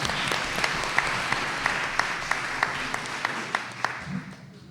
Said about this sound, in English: I'm going to pause for an applause break on that one.